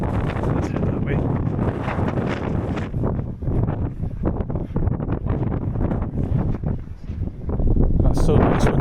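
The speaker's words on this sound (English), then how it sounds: "So nice when the wind drops." Steady, loud wind buffets the microphone along the Berwickshire coastal path near Telegraph Hill in Scotland, a continuous roar with gusty swells that strengthens toward the end.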